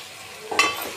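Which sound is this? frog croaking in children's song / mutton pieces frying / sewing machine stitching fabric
mutton pieces frying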